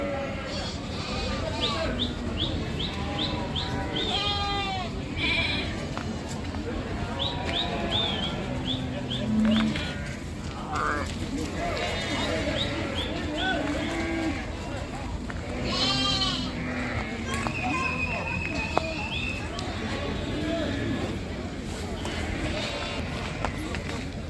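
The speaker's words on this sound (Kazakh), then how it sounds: "Буаз қойлар екен" Pregnant sheep bleat repeatedly in a busy livestock market, the wavering cries rising over a constant crowd murmur while people talk nearby.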